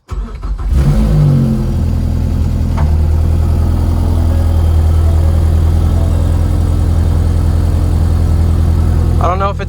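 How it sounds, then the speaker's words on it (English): A Ford Focus ST idles steadily with exhaust escaping from a leaking flange, a low, constant engine rumble close by from start to end, with a brief rev near the start. "you can definitely hear the exhaust escaping from that flange."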